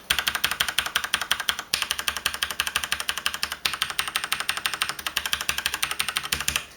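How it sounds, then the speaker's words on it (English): A Rapoo V500 mechanical keyboard is typed on in a fast, steady stream of sharp, close ticks from the keycaps striking the switches, with only a couple of short pauses. "you still get mechanical tick from the caps hitting the switches"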